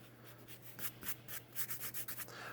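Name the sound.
pink pearl eraser rubbing out pencil on paper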